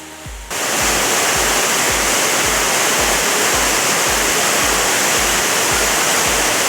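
A waterfall in a tropical hidden valley in Karo Regency, North Sumatra, roars close and loud in a constant, dense rush of water that starts abruptly and never lets up, with low rhythmic thumps underneath.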